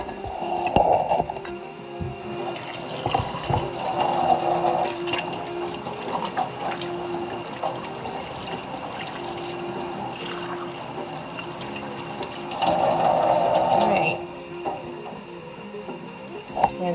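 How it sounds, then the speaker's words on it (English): A kitchen tap runs into a sink while hands are washed, a steady water hiss with louder splashing bursts near the start and again later. "So we're going to go ahead and wash our hands again."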